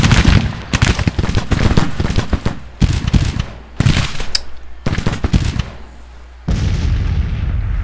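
Loud cannon booms and rifle volleys from a Civil War battle video game, a dense run of sharp repeated blasts and crackling shots with brief pauses between bursts.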